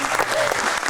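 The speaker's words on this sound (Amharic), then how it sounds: "ለራሳችሁ አጨብጭቡ" A studio audience breaks into a short burst of dense clapping, loud and close, filling the whole second as a continuous wash of hand claps.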